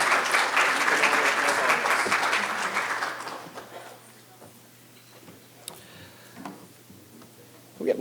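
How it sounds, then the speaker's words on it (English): Conference audience applauding Tim in a hall, loud sustained clapping for about three seconds that fades out, leaving quiet room tone with a few scattered claps and small noises. "We'll get one more round of applause for Tim."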